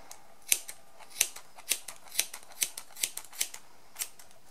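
Scissors snip pompom yarn in a run of about a dozen crisp, close cuts at an uneven, steady pace, with no talking.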